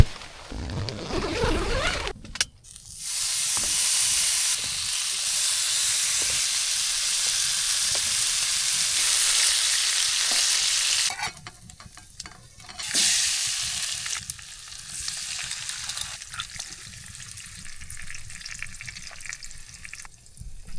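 Bacon and eggs sizzling in a pan on a camping stove in a hot tent, a loud continuous frying hiss with brief interruptions and stirring sounds, close up and without talking.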